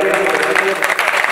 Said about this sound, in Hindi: ये एक बार जोरदार तालियां इनके लिए बजा दी।